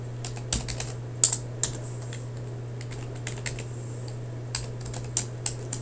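Keys tap on a computer keyboard in a quiet room, irregular clusters of light clicks with a few sharper strokes, close and alone without speech.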